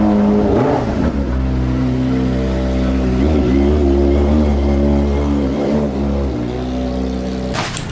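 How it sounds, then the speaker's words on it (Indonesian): A motorbike engine runs loud and near as it arrives, holding a steady mid-pitched drone with several revving swells and dips in pitch. "Tuh, ini suara motornya."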